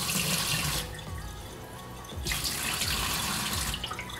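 Water pouring from a tap into a Waterdrop Chubby filter pitcher, a loud rushing stream that stops for over a second, then resumes, close by with no talk.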